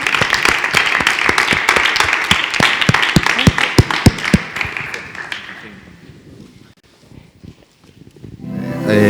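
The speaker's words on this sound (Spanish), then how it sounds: "os damos un aplauso a ellos, a todos los voluntarios" An audience at a rhythmic gymnastics presentation in an arena applauding the volunteers, loud dense clapping with sharp individual claps that thins out and fades, then a voice begins speaking at the end.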